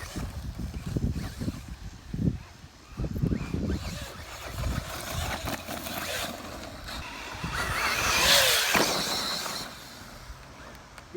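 Traxxas Slash RC truck on an ATV track, its electric motor whining up and down through bursts of throttle while it rolls over dirt, with wind noise and a rising whine near the end.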